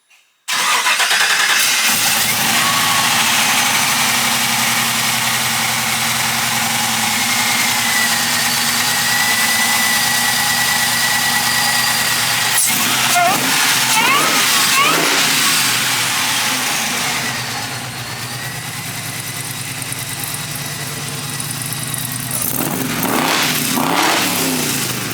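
A supercharged LS engine in a 1965 Chevrolet C10 truck fires up and settles into a loud, steady, rumbling idle, heard close by, with a few blips and shifts in tone near the end and no talking.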